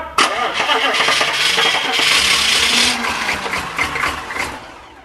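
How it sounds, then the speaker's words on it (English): A Chevrolet K2500 truck engine with a cold fuel pump cranks and sputters loudly up close, a dense churning roar that swells, wavers and fades after a few seconds without settling into a steady run. "Crank her up!"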